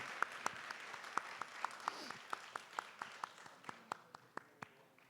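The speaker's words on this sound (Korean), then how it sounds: "우리 하나님께 감사와 영광의 박수 올리겠습니다." A church youth congregation claps in slow, even, separate beats, about twenty distinct claps spread evenly, fairly faint in a quiet room.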